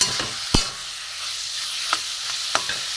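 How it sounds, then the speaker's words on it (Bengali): Grated carrot frying in ghee, a faint hiss of sizzling broken by a sharp utensil knock near the start and a few lighter taps of stirring. "ঘিয়ের মধ্যে ভালো করে গাজরটা আমি ভেজে নেব।"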